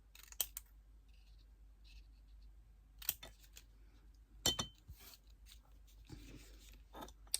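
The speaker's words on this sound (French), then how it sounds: "je vais venir découper" Scissors cut through paper for an autumn scrapbooking layout, giving a few quiet, sharp close snips separated by pauses, with faint paper handling in a quiet room.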